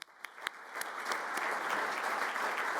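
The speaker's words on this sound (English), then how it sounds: "I think you deserve a round of applause." Audience applause at an innovation panel event, starting with a few scattered claps and swelling into steady, dense clapping from a room full of people.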